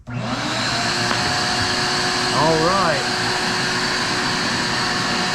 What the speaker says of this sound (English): back on with the vacuum